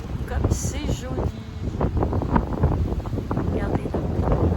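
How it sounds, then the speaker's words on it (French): Strong morning wind on a coastline buffets the microphone in rough, uneven gusts while someone talks over it, with rustling and low rumble throughout. "ce matin, il y a encore beaucoup de vent. Donc, je pense que je vais avoir un petit peu de bruit."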